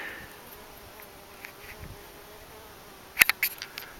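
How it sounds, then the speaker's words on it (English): Bees and flies buzz faintly around a high trail on Mount Rainier, with soft drifting hums and a few sharper, closer buzzing bursts near the end. "Amidst all the butterflies and bees and mosquitoes that followed me up here."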